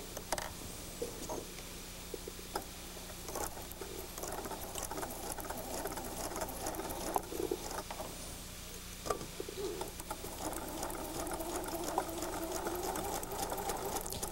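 A sewing machine stitches a fabric seam on a log cabin quilt block, a fast, steady, fairly quiet patter that runs continuously with slight pauses and speed changes.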